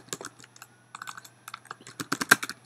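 Rapid, irregular clicks of fingers typing on a computer keyboard, heard close and alone, with a dense flurry of keystrokes toward the end.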